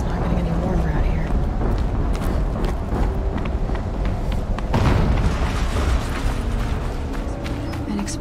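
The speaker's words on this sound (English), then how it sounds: "An explosion." Explosion in the video game Horizon Zero Dawn, a deep rumbling boom with mechanical creaks and clanks, heard under ongoing talk.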